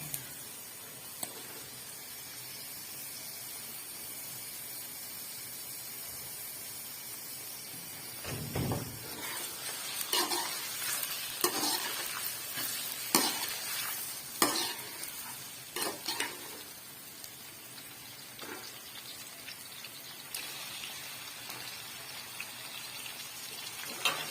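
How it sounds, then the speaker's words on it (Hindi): Half a kilo of chicken frying in a pan, a steady sizzle that grows busier after a loud clatter of the pieces going in, followed by repeated stirring knocks, no talk. "इसमें मैं डालूंगी चिकन, इसके साथ ही चिकन को फ्राई करूंगी।"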